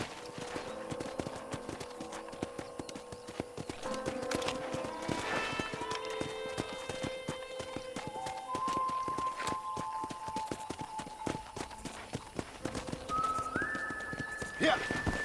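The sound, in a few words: horse hooves clip-clopping while riding, from video game Red Dead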